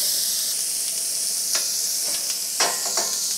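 Sliced onions sizzling with meat in a pan, a steady bright frying hiss with a few louder crackles and stirring scrapes.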